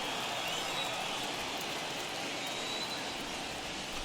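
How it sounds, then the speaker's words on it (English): Heavy rain pouring down on a baseball field in MLB The Show 21, a steady dense hiss of falling drops that stays even and constant throughout, with no voices over it. "that rain is really coming down right now"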